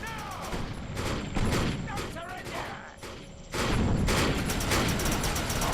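Gunfire rattles in the video game Defiance as rapid bursts of shots come one after another, with crashes and impacts layered over a busy mix of game sound. A voice talks over the shooting.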